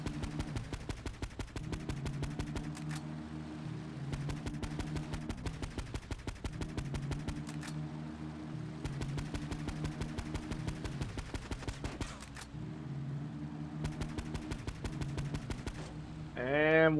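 Gunshots in GTA 3 Definitive Edition on PS5, long bursts of rapid automatic fire with short pauses between them, loud and close, with a brief voice at the very end.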